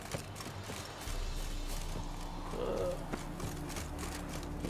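A horse gallops in The Witcher 3, hooves clip-clopping in a quick, steady rhythm at moderate distance over faint game ambience, with no talk.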